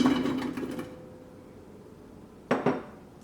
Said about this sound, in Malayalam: ഉരുളക്കിഴങ്ങ് കുക്കറിലേക്ക് ഇടുക.